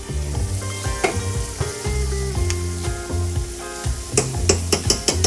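Tomato paste sizzles in a pan of cream, a steady frying hiss with stirring scrapes over low background music, building to a few sharper clicks and taps near the end.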